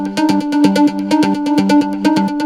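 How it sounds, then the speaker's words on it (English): A bright, steady melodic loop sample of sustained tones with sharp percussive hits pulsing in a quick, even rhythm, loud and close with no voices. "And here's a melodic loop."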